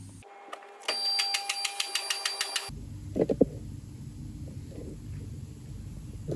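An electric vehicle lift raises a Vauxhall Astra VXR in a workshop, a steady motor hum with rapid rhythmic clicks of the locking catches, then stopping, followed by faint knocks.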